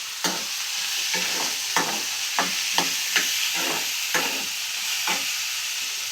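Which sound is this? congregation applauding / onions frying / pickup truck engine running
onions frying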